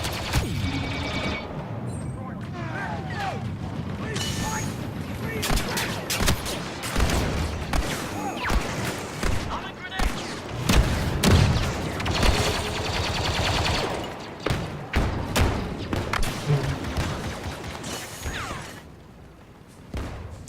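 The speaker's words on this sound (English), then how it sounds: "The visuals, such as the explosions, laser fire, etc. are all just stunning. And the sound is great." Laser fire and explosions from multiplayer combat in Star Wars Battlefront II, with rapid bursts of blaster shots and booming blasts layered densely, loud and dynamic, easing off near the end.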